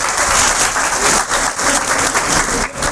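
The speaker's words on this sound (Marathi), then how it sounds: "मोठा हात वरते करा, तिच्यासाठी एक वेळ टाळ्या." Audience at a career guidance seminar in Aarni claps for a female student, a dense, steady round of applause filling the room for about three seconds, close and loud with no talking.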